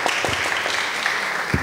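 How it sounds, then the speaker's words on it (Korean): A short burst of congregation applause at a New Jersey church sending-off worship service, steady and moderately loud, with a few low thumps and no talk. "박수로 맞이하겠습니다."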